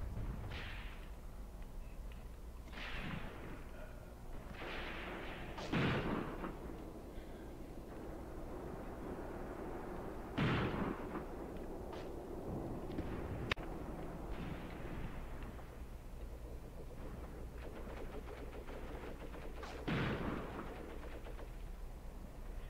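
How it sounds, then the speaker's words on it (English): Machine gun fire in the WWII game Graviteam Tactics, Kharkov 1942, comes as scattered distant bursts and thumps spaced several seconds apart over a low battlefield rumble. "I think there's at least two that keep firing at my guys up here and are causing casualties as well."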